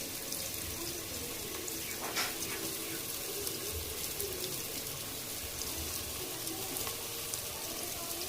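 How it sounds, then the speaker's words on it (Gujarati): Garlic fries in a hot pan, a steady dense sizzle that stays even throughout, with occasional faint clinks and no talk. "ચાલો લસણ નાખી દો આયુષીબેન."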